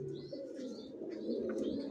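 Racing pigeons of the Johnson line coo softly in a loft, a low, faint murmuring burble with a few higher chirps layered above it, steady over a brief moment.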